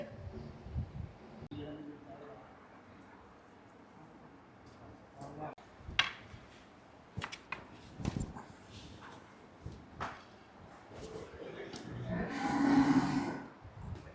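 A cow on a cattle farm moos loudly in a long, low call near the end, after scattered knocks and shuffling with voices nearby.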